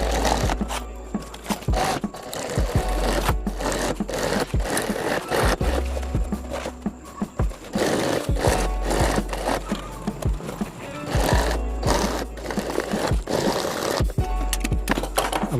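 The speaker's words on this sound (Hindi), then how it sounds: "इसको सिलाई करने के बाद हम बैक साइड वाला सिलाई करेंगे उसी तरह से" Sewing machine stitching the back seam of a handmade travel bag, a rapid clattering run of needle strokes that stops and restarts in short bursts, close and fairly loud, with no talking.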